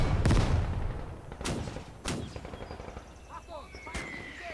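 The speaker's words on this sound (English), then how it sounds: "You see the AT gun trying to fire" Sharp anti-tank gun shots in a Gates of Hell World War II trench battle, several loud cracks spaced about a second apart over a rumbling, crackling battlefield din.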